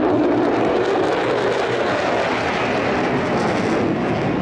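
A large multi-engine US Air Force jet with eight TF-33 engines flies past at an airshow in Singapore, giving a loud, steady broadband roar that holds evenly for several seconds with no voices.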